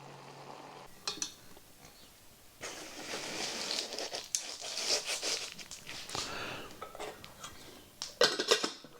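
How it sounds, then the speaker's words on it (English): A camp pot lifted off the stove and pushed into an insulated pot cosy, with close rustling, scraping and light metallic clinks that come in uneven bursts and no talking. "I'm going to take it off the heat and pop it in the pop cosy."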